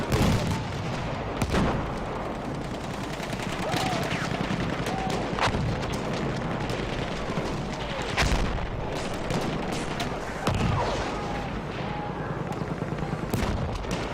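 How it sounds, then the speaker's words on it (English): Rockets and mortars bombard a contested objective in Battlefield 1, a dense wash of repeated booms, gunfire and explosions rolling on continuously for the whole stretch, with sharp blasts standing out near the start and middle. "The AT rockets, the mortars, everything is just bombarding SnoT."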